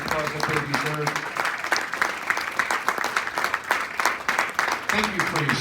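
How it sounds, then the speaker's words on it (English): Applause for veterans fills the room at an Italian lunch with an entertainer, loud and continuous clapping mixed with voices and music beneath it throughout. "Give these men a round of applause that they deserve."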